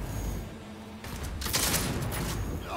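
Rapid bursts of gunfire from a weapon in Cyberpunk 2077 during a fight against the Maelstrom gang, loud and dense, with crackling shots stacked over a rumbling game background.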